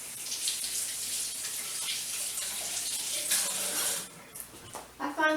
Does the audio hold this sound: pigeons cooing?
no